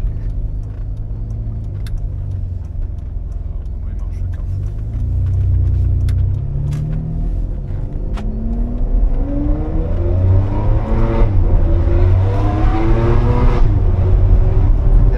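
Ferrari 599 GTB Fiorano V12 pulling hard on the road, a loud, close, deep engine roar that climbs through the revs with rising harmonics and gear changes over about fifteen seconds.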